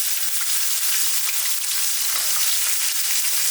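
Onions dropped into hot oil with frying chilli and cumin for a fish curry, giving a steady, dense sizzle that holds even and close throughout, with no voices.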